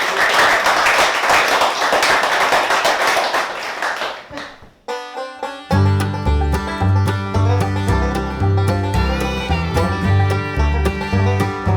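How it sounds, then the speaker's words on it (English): Audience applause at the Week of Wheeling 2016 gathering, a dense loud patter of clapping for about four seconds that fades out before a band with singing starts up. "Give yourselves a round of applause"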